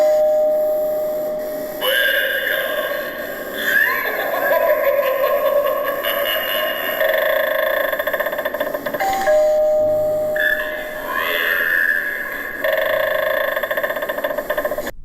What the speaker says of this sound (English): For more information about this creepy doorbell